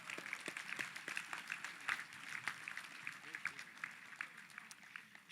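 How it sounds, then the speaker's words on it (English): An audience claps for graduating seniors at a school commencement ceremony, a steady patter of many hands with scattered sharper claps, moderately distant, continuing throughout. "We can clap for that."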